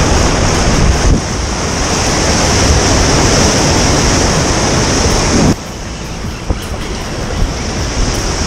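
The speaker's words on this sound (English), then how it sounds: "waves are just crashing over here as the tide gets higher" Ocean waves crashing on a beach as the tide rises during bluefish lure fishing, a continuous loud roar of surf with wind buffeting the microphone and no talk.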